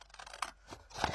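Scissors snip through small portions of material in a crafting session, two short crisp cuts close by with a faint rustle between them.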